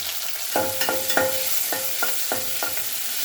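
Onion, tomato, curry leaves and green chili fry in a pan with a constant sizzle, and a spatula stirs them in quick repeated scrapes close by.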